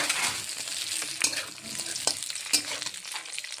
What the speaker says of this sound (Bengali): বেশি তেল ভালো করে ভেজে নিতে লাগবো। মশলা দিয়ে দেই